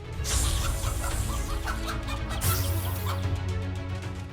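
Hens and roosters cluck in a steady, dense run of close, overlapping calls, with no talk over them.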